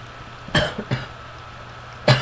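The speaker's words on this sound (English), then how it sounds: "I have a bit of a cough." A person coughs three times alone in a quiet room with a low steady hum: two short coughs close together, then a third after a pause, each brief and sharp.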